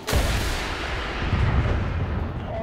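In War Thunder, a LOSAT anti-tank missile carrier fires a rocket with a sudden sharp blast that rolls into a loud, sustained roaring rumble, close and heavy.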